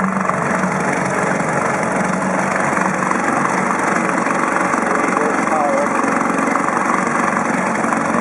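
A 1956 Evinrude outboard motor runs on a boat on a Michigan lake, a steady, loud engine drone with a constant pitch, heard close throughout.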